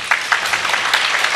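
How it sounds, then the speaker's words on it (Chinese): Audience clapping at the COSCUP 2015 open-source conference as a guest is welcomed, a dense, steady patter of many hands with small periodic swells, close and fairly loud throughout the short burst. "那我们掌声欢迎一下 Pin 好不好"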